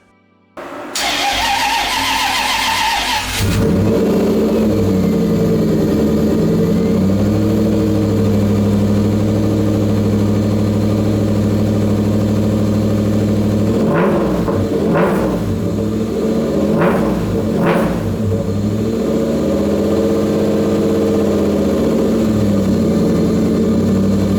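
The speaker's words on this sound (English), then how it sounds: "I'll fire the engine up so you can hear it." Engine of a tuned car strapped to a dyno, fired up after a brief starter crank, then settling into a loud, steady rumbling idle with a few sharp blips of the throttle near the end; no talk.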